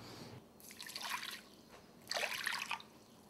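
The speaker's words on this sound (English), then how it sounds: "I just stick my finger in the tap until the water starts to hurt, and then I put in the water." Hot tap water pouring into a bowl for homemade pizza dough, heard as two bursts of splashing liquid, each about a second long, near and moderately loud, with a short pause between them and no talking.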